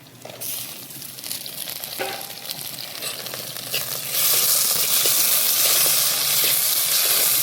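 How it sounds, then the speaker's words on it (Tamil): Onions and crab sauté in a pan for a village-style crab curry, with a close sizzling hiss and stirring scrapes that grow sharply louder and denser partway through. "நல்லா வதங்கிட்டுருக்கு"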